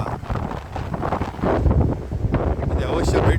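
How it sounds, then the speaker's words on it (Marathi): Strong wind gusting at a seaside sunset viewpoint on a cloudy day, a steady broadband roar buffeting the microphone that swells louder midway, with a person talking over it. "वारा, जोरदार वारा सुटलेला आहे"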